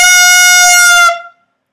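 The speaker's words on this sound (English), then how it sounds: "Sounds very honky and out of control." A single loud, bright clarinet note played with too much mouthpiece in the mouth blares with a harsh, nasal, honky tone, holding steady for about a second before stopping abruptly.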